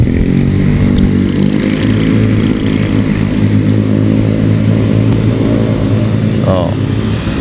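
Several Yamaha Mio scooters pass by on a road at the Cidolog bend, a loud steady engine drone running throughout alongside other traffic noise.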